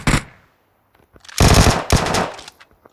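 Automatic gunfire bursts in PUBG Mobile on the Livik map: a short sharp volley, a pause, then two loud sustained rattling bursts with a few trailing single shots, sounding close.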